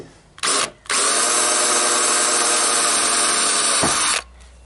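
A power drill whirs in a short burst, pauses, then runs steadily at high speed for several seconds before spinning down, close and loud, during a car side-mirror replacement.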